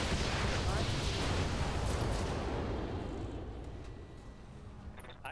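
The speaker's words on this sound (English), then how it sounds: "Let's leave this off, fire everything else." Mech weapons firing all at once in the RogueTech battle game, a heavy booming barrage that rumbles and slowly fades, with a voice speaking over it.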